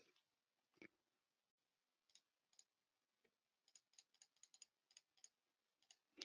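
Soft mouse clicks on the test button during a database query session, a few faint isolated ticks followed by a quick run of light clicks, with no talking.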